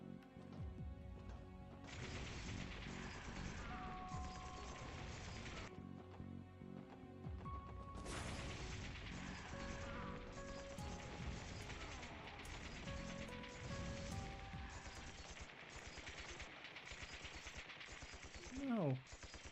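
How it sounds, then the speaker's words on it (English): Gunfire crackles through a battle scene in the video game Trails to Azure, with dense bursts of rapid shots and short pauses, set against a music score. A loud rising effect swells near the end. "Gunfire? What could be happening?"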